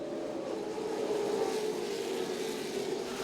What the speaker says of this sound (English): Waves, cars are restarting.